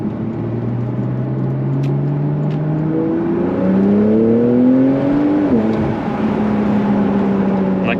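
Porsche 911 991.2 GTS turbocharged engine revving up toward about 7,500 rpm, a loud sustained drone whose pitch climbs steadily, drops briefly at a shift, then carries on without pause.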